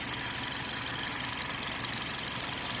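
A BMW i430 engine idles steadily on all four cylinders after an ignition coil repair, giving a constant mechanical hum and light ticking that stay close and even throughout, with no talk.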